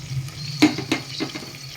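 Braised meat dropped into reddened frying onions in a pressure cooker for biryani, a soft sizzle with a couple of sharp clattering spoon knocks and stirring scrapes, no voices.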